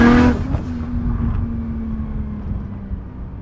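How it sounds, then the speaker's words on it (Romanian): Exhaust of a VW Golf 4 R32 Turbo tuned by Exelixis Motorsport: a loud opening rev fades into a steady, throaty engine drone close by, with no talk over it. "un alt lucru de care eu sunt îndrăgostit de la mașina asta este sunetul evacuării"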